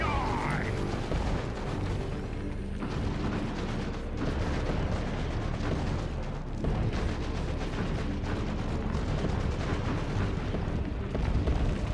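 Artillery shells exploding in Dawn of War 2 during an Ork Mek Boy versus Plague Marine match, a dense, continuous roar of booms and blasts with no clear gaps, under a commentator's talk.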